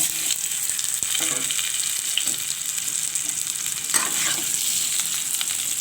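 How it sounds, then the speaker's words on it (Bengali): Boiled potatoes fry in hot oil for a potato curry, giving a steady, close sizzle with scattered crackles and faint scraping as they are turned. "এখন আমি আলুটা ভেজে"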